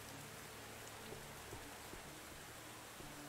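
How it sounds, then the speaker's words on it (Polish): Steady rain falls in the video game Medieval Dynasty, a soft, even hiss of drops on surfaces, quiet and continuous with no voices. "Dalej niestety pada"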